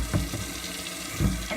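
Tap water runs steadily into a part of a Dyson DC28 vacuum cleaner being washed, a close, even rush with slight splashy changes in tone.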